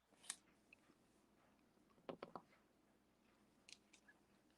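Scissors snip through fat quarter fabric in quiet, short crisp cuts: one near the start, a quick cluster of three in the middle, and two more toward the end, with no talk.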